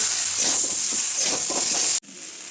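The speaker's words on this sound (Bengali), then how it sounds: "সবটা দিয়ে এবারে ভালো করে কষে নেব, একদম গ্যাস কমিয়ে" Taro with ginger, cumin, chilli and tomato sautéing in a pan on low flame, a soft steady hiss and gentle sizzle with faint stirring, stopping abruptly and then resuming more quietly.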